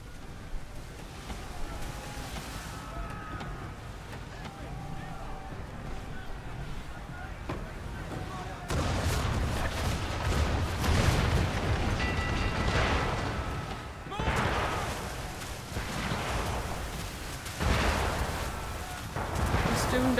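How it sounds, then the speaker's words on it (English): Loud booming blasts of ship cannon fire in a video game burst out over rushing wind and engine-like rumble, several heavy shots in a row, with no one speaking. "I'm not using a chain shot. I'm using ammunition. I'm using cannons."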